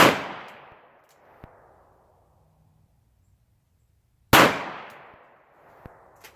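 Two sharp handgun shots at a shooting competition, spaced about four seconds apart, each loud and close with a ringing decay, and faint clanks between them.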